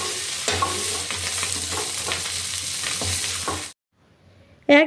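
Prawns frying in a pan, giving a dense, steady close sizzle with light stirring scrapes for several seconds. Then it cuts to near silence, and a brief loud clatter follows at the end.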